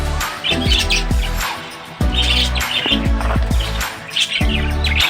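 Budgerigars in breeding cages, some with chicks, chirp and squawk in busy, overlapping bursts, close and fairly loud, with sharp repeated calls throughout.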